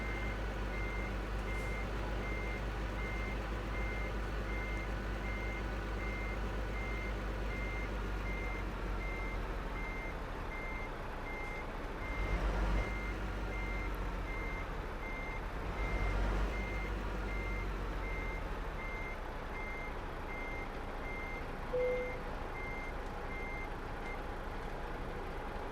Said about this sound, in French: c'est parti, la petite marche arrière qui va bien